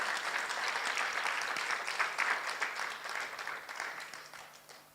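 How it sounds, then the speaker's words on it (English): Steady applause from the audience at an inaugural lecture fills the room for the producers, many hands clapping evenly before tapering off toward the end. "give a round of applause to the producers"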